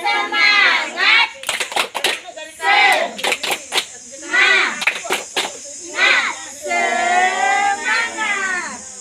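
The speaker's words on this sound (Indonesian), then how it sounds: "Kita tepuk semangat ya. 3. Tepuk semangat." Schoolchildren in a classroom perform a rhythmic spirit clap, bursts of sharp claps in patterned groups alternating with loud chanted group voices, close and energetic throughout.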